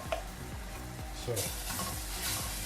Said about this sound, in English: add the rice.